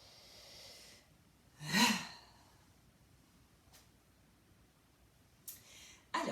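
During a stretching exercise a single deep, audible breath rushes in close and clear, followed later by fainter short exhalations and another breath at the end, in an otherwise quiet room.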